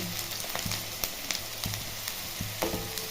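Chopped onion fries in a pan with panch phoron spices, giving a steady close sizzle broken by light scraping stir taps, no voices.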